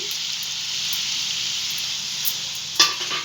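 Rice-flour pieces frying in hot oil in a pan for jaggery milk dumplings give a steady close sizzle that holds throughout, with a brief clatter of stirring near the end.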